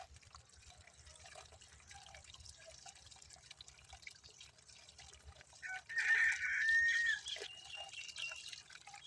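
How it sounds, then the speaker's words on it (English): Water spun by hand into a small whirlpool tornado, a faint watery swirl and trickle that swells into a louder rushing gurgle for a few seconds near the end, with no talking. "Then use your hand to spin the water and open the hole."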